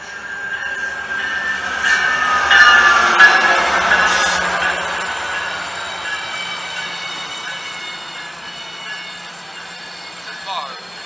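A MARC passenger train rolls past in Germantown, Maryland, with a loud rumbling swell that peaks midway, steel wheels squealing and clattering before fading, while people talk nearby.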